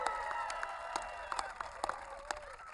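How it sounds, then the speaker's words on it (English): A crowd in Eagle County, Colorado cheers and applauds the President at the Camp Hale national monument designation, with scattered claps and whoops over a steady, somewhat distant roar. "Let's give a round of applause to the President of the United States."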